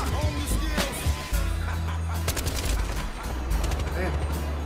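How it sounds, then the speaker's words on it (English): Gunfire in the Fortnite video game, with bursts of rapid shots and sharp single cracks mixed with other game effects, fairly loud and close. "Say Fortnite. Shoot my teammates."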